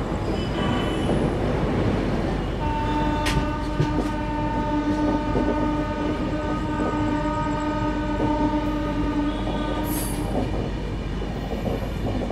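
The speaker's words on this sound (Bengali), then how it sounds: "ট্রেন আমাদের এসে পৌঁছালো দক্ষিণেশ্বর।" A train rolls along the rails into Dakshineswar station near Kolkata, with a steady rumble throughout, sustained squealing wheel tones from the middle on, and a short horn-like burst near the end.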